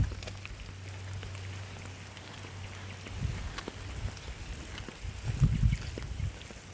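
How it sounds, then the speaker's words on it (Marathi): Steady rain falls outdoors in countryside woodland during a mushroom hunt, a soft continuous hiss with a few low rumbling swells near the end and no voices. "दरम्यानचाच पाऊस लागत आहे."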